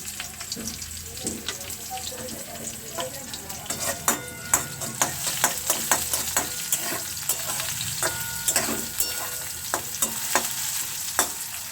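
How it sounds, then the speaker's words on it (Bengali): Whole cumin and panch phoron tempering in hot oil, a dense close sizzle broken by frequent sharp pops and crackles, with some stirring scrapes mixed in, fairly loud and continuous, no voices. "ফোড়নে দেব গোটা জিরে আর পাঁচফোড়ন"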